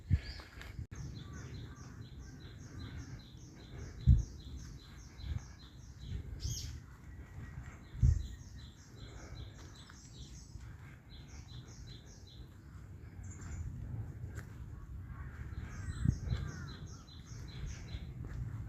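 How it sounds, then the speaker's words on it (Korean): Outdoors in the mountains, small birds chirp in repeated quick trills at a moderate distance, with a few occasional thumps and quiet background rumble; no distinct crow caws stand out. "참 멋있죠 산새 소리 뭐 까마귀 소리"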